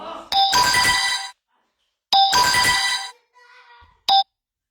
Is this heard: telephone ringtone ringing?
yes